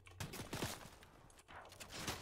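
Gunfire in a Fortnite no-build match, a rapid burst of shots crackling close and loud, with a second flurry after a brief gap.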